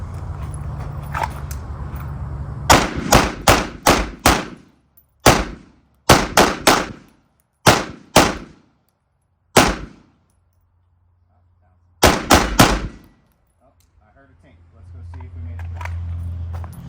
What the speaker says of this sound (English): we're just gonna put a whole mag in that same spot and see if we can finally make it through